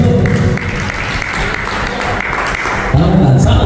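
A church congregation applauds steadily and loudly, a dense wash of clapping filling the whole moment with voices mixed in beneath.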